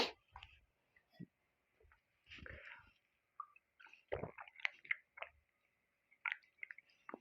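A teacher sips water partway through a physics lecture: soft, close swallowing and wet squishing sounds in short bursts with quiet pauses, and a faint voice in between.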